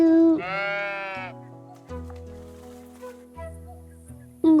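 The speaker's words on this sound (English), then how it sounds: "There's another sheep over there." Sheep in the cozy building game Tiny Glade let out a near, clear bleat at the start, followed by soft plucked game music, with another brief bleat at the very end.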